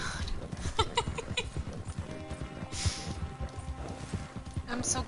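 Horse hooves clip-clop in a quick, uneven gallop while riding in Red Dead Redemption 2, with brief rustles and thumps over the steady hoofbeats.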